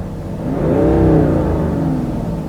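A 2016 BMW 730d G11 diesel engine held just over 3000 RPM, its turbo wastegate adding a faint whooshing whir over a steady, rising engine hum heard from inside the cabin.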